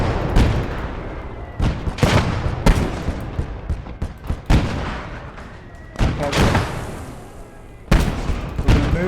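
Mortars and gunfire boom through a video game battle, a series of loud close blasts and sharp cracks at irregular intervals with rumbling tails between them.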